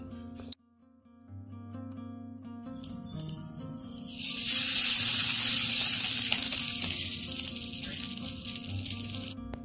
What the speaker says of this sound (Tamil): கொஞ்சமாக தண்ணி சேர்த்து இதை நல்லா நைஸாக அரைச்சிட்டு வந்துடுவோம்.